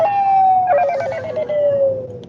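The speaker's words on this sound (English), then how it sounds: "I paid 99 cents for that ringtone" A phone plays a movie-derived ringtone, a loud electronic tone sliding slowly downward with a warbling, siren-like trill in the middle, heard alone without talk.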